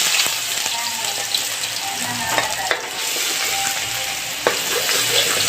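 Ginger pieces sizzle steadily in a hot pot while papaitang baka is being cooked, a close, dense frying hiss with occasional pops and faint stirring scrapes.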